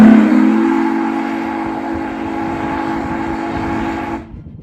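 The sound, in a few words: Union Pacific 3985 Challenger Hancock long bell steam whistle blowing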